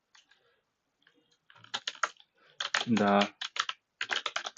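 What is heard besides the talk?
typing on a computer keyboard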